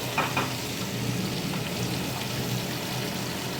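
Fish frying in a pan of hot oil, a continuous close sizzle with fine spitting crackles and a few brief clinks near the start, no talking.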